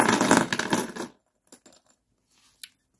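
Euro coins (2 € pieces) clatter and jingle loudly into paper savings envelopes for about a second, followed by a few faint scattered clinks and rustles.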